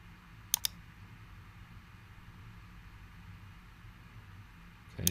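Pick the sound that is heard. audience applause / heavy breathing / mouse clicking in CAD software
mouse clicking in CAD software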